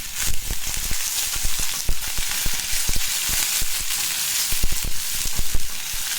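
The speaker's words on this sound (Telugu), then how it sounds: "ఆనియన్ అంతా బాగా ఫ్రై అవ్వాలండి" Chopped onions sizzle and crackle steadily in hot oil in a pan, with dense frying hiss and scattered pops and stirring clicks throughout, close and fairly loud.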